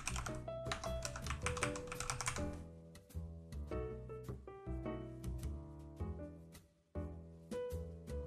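Quick bursts of keystrokes tap on a computer keyboard as a MySQL username and password are entered, fairly quiet and close, set against a steady tonal backdrop.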